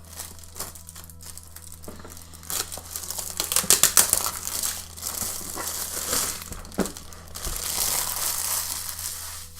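The package of a Jofelo journal is torn open by hand, close crinkling and crumpling of wrapping in irregular bursts, building to a rapid flurry of tearing before quieter rustles.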